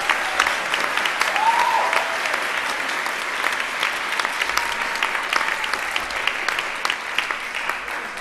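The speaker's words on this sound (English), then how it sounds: "One more big round of applause for our terrific teens for the fall semester" Sustained audience applause for high school students honored as Terrific Teens at Chalmette High School, a steady dense clatter of many hands filling the room throughout, with faint cheers mixed in.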